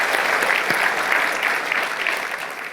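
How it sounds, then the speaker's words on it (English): Audience at a conference talk claps steadily throughout, a dense sustained wash of many hands at close-to-moderate distance with no talking over it. "That's worth a clap"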